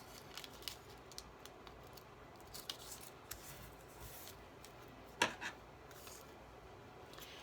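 Craft material being cut out by hand in a quiet craft room, soft intermittent scissor snips and rubbing rustles close by, with a sharper clipped snip near the end.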